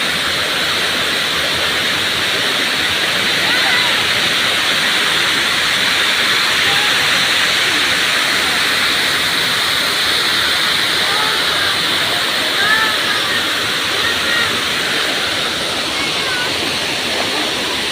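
Rushing water pouring over Wawa Dam, a dense, continuous roar of falling water, loud and close, steady throughout with no break.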